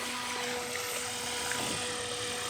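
A Ty Xin 725 RC jet boat runs on water with a steady, high-pitched electric whine and constant spray hiss, held at even throttle throughout with no talk.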